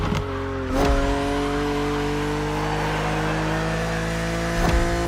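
A BMW Z4 E89 drives in The Crew Motorfest, its engine holding a steady droning tone with brief bursts of rougher noise near the start and end, loud and continuous.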